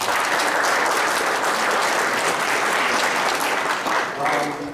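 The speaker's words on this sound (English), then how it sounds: "Let's give them a round of applause." An audience at a political debate applauds, with steady clapping from many hands at a consistent level throughout, no talking over it.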